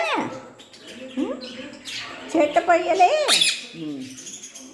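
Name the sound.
peacock calling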